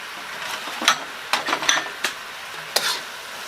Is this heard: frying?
yes